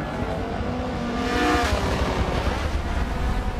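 A race car engine in the Forza 7 video game on the Monza circuit drones and rises in pitch as the car brakes and accelerates through a turn, loud and continuous with faint tire noise.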